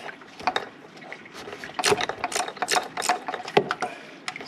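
Ratchet wrench removing 10 millimeter bolts on the thermostat housing of a 2012 Dodge Journey 2.4L, with rapid clicking bursts and metallic ratcheting strokes repeated close up.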